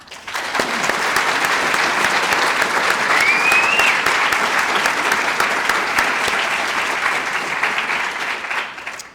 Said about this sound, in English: I'd like to give a round of applause, please